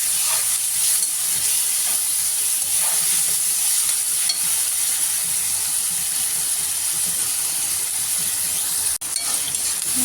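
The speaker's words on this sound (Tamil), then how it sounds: "நல்லா தக்காளி வெங்காயம்லாம் நல்லா வதங்கி இந்த எண்ணெய் தெரியுதா பிரிஞ்சு வந்துடும்" Tomatoes and onions sautéing in oil for paruppu urundai kulambu, a loud steady hiss of frying throughout with a few faint stirring sounds and one brief dropout near the end.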